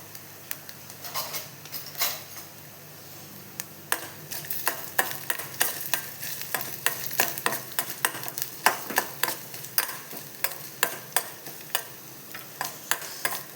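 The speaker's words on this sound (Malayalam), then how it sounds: "അപ്പോൾ നമുക്ക് കറിവേപ്പില ഇട്ട് കൊടുക്കാം." Curry leaves dropped into a coconut and mustard seed tempering for an Onam ash gourd pachadi, sharp popping sizzles and spattering crackles that grow busier over a low frying hiss, with stirring sounds and no speech.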